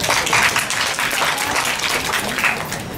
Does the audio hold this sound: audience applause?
yes